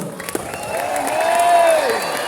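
A church congregation at an anniversary service applauds and shouts, a sustained roar of clapping and cheering with a rising vocal cry over it, fairly loud throughout.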